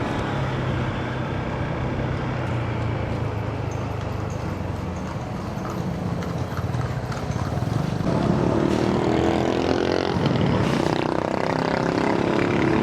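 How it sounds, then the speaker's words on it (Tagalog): Horses clip-clop along a street past old ancestral houses in Vigan, the hoofbeats steady and close over a continuous motor-like drone, with no talking. "Mga kabayo."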